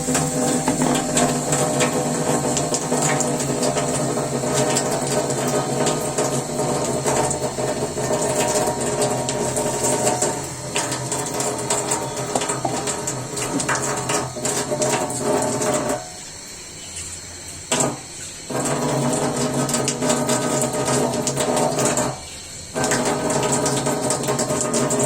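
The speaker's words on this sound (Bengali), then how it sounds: "ব্লেন্ডার জারে পানি দিয়ে দিচ্ছি ধুয়ে।" A kitchen blender whirs with water in its jar to rinse it, a loud, continuous mechanical drone that cuts out briefly a couple of times.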